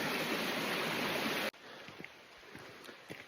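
Water of a river in Shenandoah National Park rushes loudly and steadily, then cuts off abruptly to a quieter flowing background with small splashes and faint movements.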